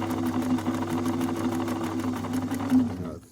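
A Singer Model 527 sewing machine runs steadily at speed, stitching through two layers of workshop rag on its finest stitch setting, with a rapid, even needle rhythm up close that stops abruptly at the end.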